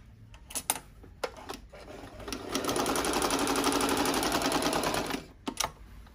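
New Home 365c sewing machine running a straight stitch, a fast even rattling burst of about two and a half seconds, close and clear, framed by soft clicks and handling taps before and after.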